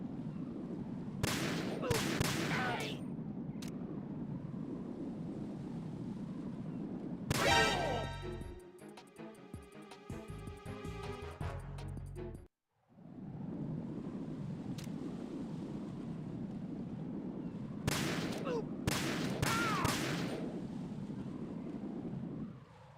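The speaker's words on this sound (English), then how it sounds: "Just sniped all those guys with a pistol." Pistol shots in Metal Gear Solid 2: Substance on PC, a few sharp reports in short clusters near the start and again near the end, over a steady windy, watery ambience with a denser patch of game noise in the middle.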